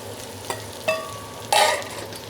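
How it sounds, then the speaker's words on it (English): Garlic and onions sizzle and crackle in hot oil, with a few sharp clanks of a ladle against the pan and a louder burst of frying near the end. "It's got a great sizzle there."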